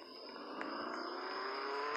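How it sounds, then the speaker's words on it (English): A car in Roblox Jailbreak gives a steady, faint engine drone that rises slightly over two seconds with no voices. "I think I heard the sound of a car."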